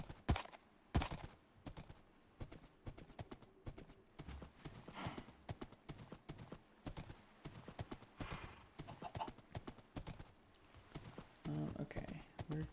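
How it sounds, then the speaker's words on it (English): A horse in the Minecraft Create mod clops along in game, rapid hollow hoof clicks repeating in quick bursts, close and clear, with a short whinny-like sound near the end. "we're going to set up our horse right here"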